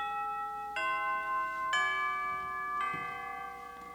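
A stage clock bell chimes the quarter hour in clear, ringing tones. Three struck notes sound in succession, each sustaining with a long decaying ring, and there is no talk.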